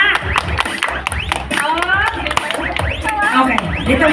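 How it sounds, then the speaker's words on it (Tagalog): Seniors at a Christmas party contest clap in a quick, lively burst of applause with voices and shouts mixed in, sustained and close throughout. "1, 2, 3, palakpak!"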